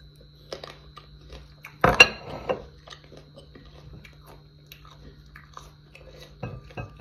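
Someone bites and chews small apples dipped in chili salt. One loud crunchy bite is followed by quieter, irregular crunching and chewing close to the mic, with a steady low hum underneath.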